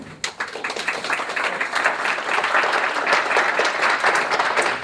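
A hospital community education audience bursts into steady applause welcoming Dr. Chad Mather, a dense crowd clapping that swells and holds throughout without speech.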